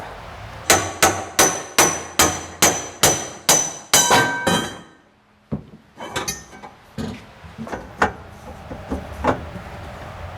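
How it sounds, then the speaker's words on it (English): Loud ringing hammer blows on a metal roll cage bar, about ten struck in a steady rhythm, then a brief pause followed by lighter, scattered strikes. "I'm gonna have to hammer this thing out"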